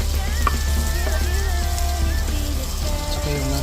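Onion, garlic and ginger sizzle in hot oil for frog legs, a steady, close frying crackle with light stirring clinks over it and no talking.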